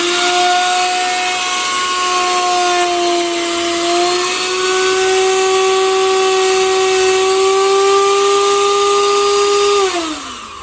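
A 150 g, 1000W electric spice grinder with its lid closed runs loud and steady with a high whining motor tone that holds for about ten seconds, then winds down as it is switched off.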